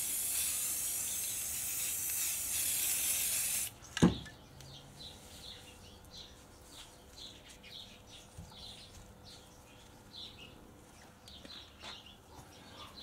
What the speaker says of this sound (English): I'm just going to spray on there and then dab that down on that.